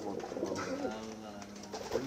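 Homing pigeons on a farm coo softly and continuously, a low, rolling murmur close by with a faint background hum.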